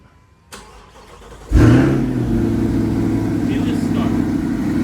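A Chevrolet Corvette C8 or Nissan GT-R R35 sports car engine cranks briefly, then fires up with a loud sudden roar and settles into a steady, strong idle close by.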